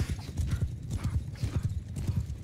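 Galloping horse hooves in Mount & Blade Bannerlord beat a steady, rapid clip-clop rhythm, close and loud, with heavy breathing from the horse running underneath and no talking.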